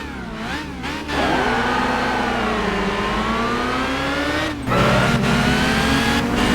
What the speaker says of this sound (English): Hear the car.